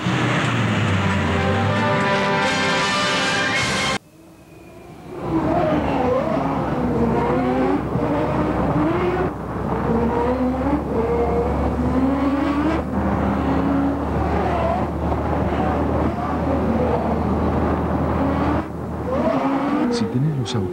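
Turismo Carretera race cars at the 1997 Rafaela qualifying session roar past on the track, engines rising and falling in pitch as they pass, with a commentator's voice over them. A brief musical jingle plays before the engines.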